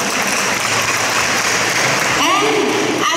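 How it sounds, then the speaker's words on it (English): A crowd at a senior high school expo and job fair applauds, a dense, loud wash of clapping that fills the moment, with a voice rising briefly near the end. "Shall we give ourselves a big round of applause?"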